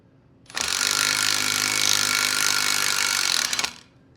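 An impact driver runs a 5/8-11 tap into lubricated steel, a loud, steady, harsh whirring rattle lasting about three seconds that starts and stops abruptly, with no talking.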